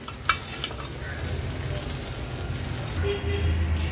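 Lepa fish fry in oil on a tava with a steady, broad sizzle, and a few light clinks sound early on. The frying is fairly quiet and close, with no talking.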